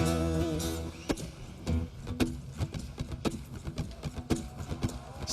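Horse hooves clip-clop in an uneven, steady rhythm of sharp knocks, with a musical tone fading out at the start.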